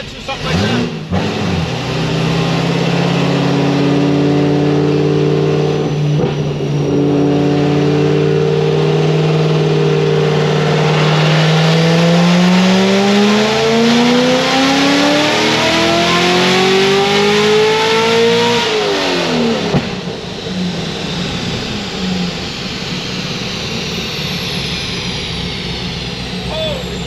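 A supercharged Corvette C6 ZR1 with a ported blower runs hard on a dyno, its loud engine note climbing steadily in pitch through a long full-throttle pull before abruptly backing off and settling to a lower rumble.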